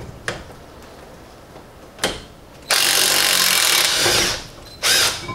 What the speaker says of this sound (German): nochmal eben Schlagschrauber drauf